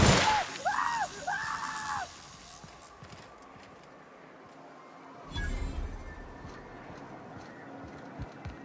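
Enemies in the video game The Outer Worlds let out short screams, two quick wavering yells near the start, followed by a sharp bang and scattered game noise at moderate volume.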